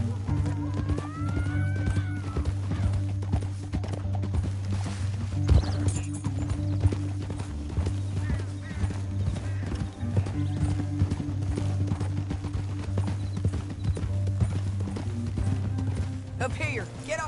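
Horses gallop in the Red Dead Redemption 2 video game, their hooves beating in a rapid, steady clip-clop with an occasional whinny, set against a droning in-game score.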